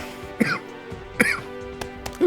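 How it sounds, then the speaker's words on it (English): Two sharp coughs from a nearby person, spaced apart, with a softer throat sound and a small catch near the end. "Cough is killing me tonight."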